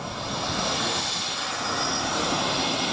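A Fairey Swordfish biplane's engine drones steadily at an air display, a loud continuous roar with no break and no talk over it.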